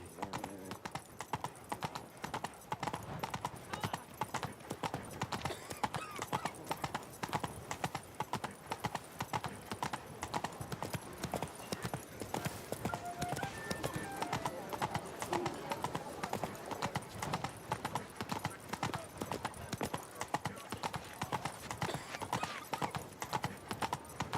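Roach the horse's hooves clip-clop steadily in The Witcher 3, a continuous walking rhythm running throughout, layered under ambient game sound and occasional voices.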